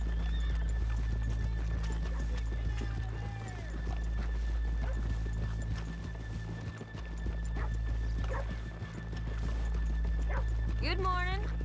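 Horses in Red Dead Redemption 2 clip-clop on a town street and whinny, hooves steady under a constant low rumble of game ambience, with a dog barking and people talking over it.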